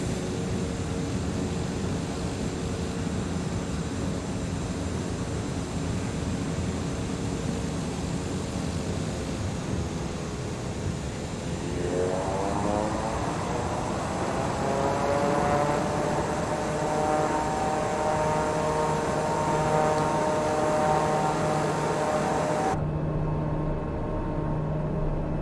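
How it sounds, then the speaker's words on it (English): A plane touches down in Microsoft Flight Simulator 2020 with reverse thrust applied, a steady engine roar that rises into a loud whining spool-up partway through, then holds and cuts off abruptly near the end. "Didn't know you could reverse thrust on this thing."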